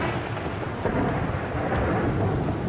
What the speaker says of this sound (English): That sounds like a really bad storm.